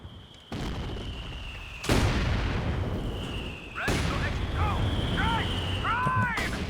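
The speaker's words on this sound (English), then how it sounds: "Looks like all 3 shells landing on the mortar pit." Three mortar shells from Company of Heroes 2 land on a mortar pit in sharp, heavy booms about two seconds apart, each followed by a rumbling tail, with smaller crackles and whistling debris sounds between blasts.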